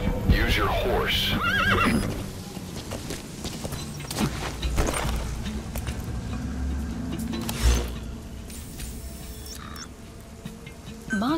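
A horse whinnies loudly several times between clip-clopping hooves in Metal Gear Solid V: The Phantom Pain, with game-style effects and a voice speaking briefly over them.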